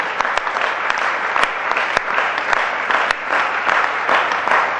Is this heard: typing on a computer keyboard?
no